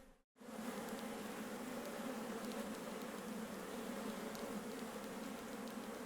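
A dense, continuous drone of many honeybees buzzing around a hive in Mallorca, steady and close after a brief moment of silence at the start.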